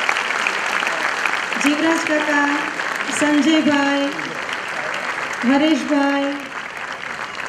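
Applause from an audience at a bhajan singing gathering rumbles underneath while someone speaks loudly and clearly over it for most of the stretch.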